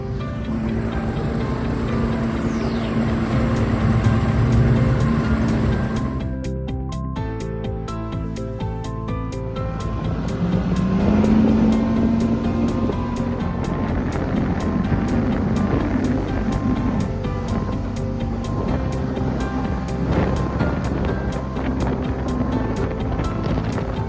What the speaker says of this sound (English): Boat's running nicely after a year.